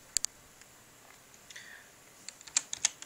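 Someone types a console command for Battlefield 3 on a computer keyboard, producing a few sparse, crisp key clicks near the start and a quicker cluster of taps at the end, close and clear.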